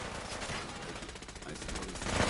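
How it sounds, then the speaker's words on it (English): Gunfire in the modded video game Fallout 4. Rapid, fairly faint bursts of shots form a continuous rattling fusillade that grows slightly louder toward the end. "That's gunfire."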